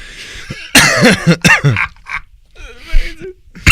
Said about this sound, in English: that water just made me like cough and choke.